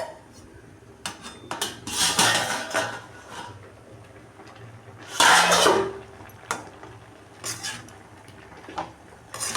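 Elephant foot yam stirred in a metal cooking pot, with scraping clatters and knocks of the spoon against the pot arriving in uneven bursts, one loud scrape standing out near the middle.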